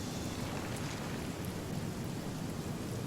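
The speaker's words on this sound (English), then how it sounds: "although it's raining, it won't last very long" Rain in the video game Divinity Original Sin, a steady dense hiss of falling water with a low rumble underneath. It is continuous and even throughout, with no voices.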